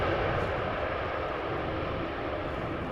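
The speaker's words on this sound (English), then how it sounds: "Even though they didn't apply full blast, they did use the reverse thrust there." A jet airliner arriving at Amsterdam Schiphol Airport after a long-haul flight from Shanghai roars with reverse thrust on the runway, a broad, steady, loud rushing roar that slowly eases off.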